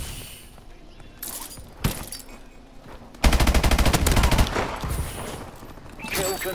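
Rapid automatic gunfire from Call of Duty: Advanced Warfare, a dense loud burst of fast shots after scattered earlier fire and impacts, with little talk.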